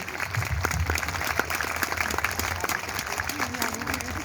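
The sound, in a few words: audience applause at a preschool sports day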